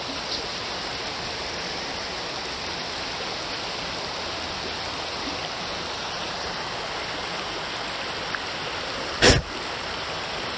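Creek water flows steadily around an angler wading in the middle of the stream, a constant broadband rush with a brief sharp knock near the end.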